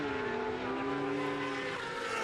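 BMW 1000cc superbike engines race at Manfeild circuit, a faint, distant whining drone of high-revving motors with slowly shifting pitch.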